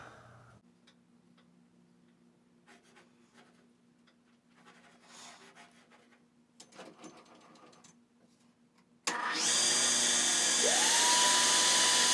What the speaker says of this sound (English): let's go ahead and screw her in and see if she works